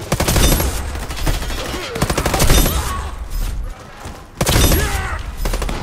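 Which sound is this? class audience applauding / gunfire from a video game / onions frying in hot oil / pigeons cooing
gunfire from a video game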